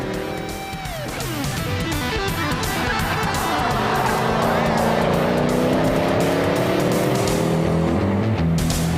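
A Mercedes SLK 55 AMG drives hard on a race track, its engine note loud and continuous, rising and falling through gear changes as it powers out of a corner, with some tire squeal.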